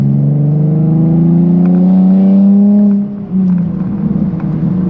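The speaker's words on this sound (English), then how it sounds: "these muffler deletes really uncork the noise of this VQ engine" A 2016 Nissan 370Z Nismo with its VQ engine and a muffler delete accelerates on a back road, a loud raspy exhaust note climbing in pitch, briefly dropping at a shift, then pulling again.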